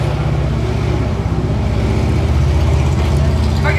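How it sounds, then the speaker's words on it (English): A motorcycle passes behind an outdoor evening ghost-walk tour group in Jefferson, Texas, its steady mid-pitched engine drone loud and continuous throughout, with a slight swell toward the end. "Hang on, I'll pause for the motorcycle to the back."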